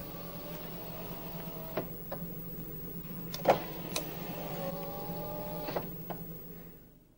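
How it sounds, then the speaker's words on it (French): Power windows on a Renault Laguna I close with a steady electric motor whine, a few soft clicks and thumps as the glass reaches the top, heard up close inside a quiet car before fading out. "Après avoir, si besoin, remonté les vitres, maintenir chaque commande en position fermeture plus d'1 seconde."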